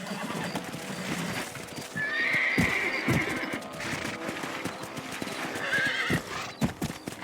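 Horses in Red Dead Redemption clip-clop steadily at a gallop, with loud whinnies and neighs rising over the hoofbeats twice, plus scattered knocks and rattles.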